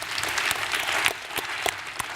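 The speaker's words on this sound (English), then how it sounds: "Let's give her a round of applause" Audience applause for an elementary school contestant at the Calgary Invitational spelling bee, a steady patter of clapping with a few sharper claps standing out across the whole stretch.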